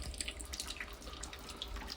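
Rainwater after a storm streams steadily into a garage with a continuous trickling, splashing flow, heard close and fairly quiet, with no voices.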